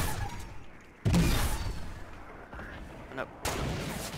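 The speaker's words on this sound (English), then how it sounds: "I was unaware that my wood walls are getting shot" Gunfire striking wooden walls in Fortnite battle royale squads, with a few heavy booming impacts in separate bursts over a low game background and no clear speech.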